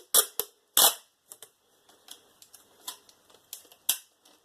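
Sharp crackling rips of tape peeled off a roll, two loud pulls at first, then smaller scattered crackles and clicks.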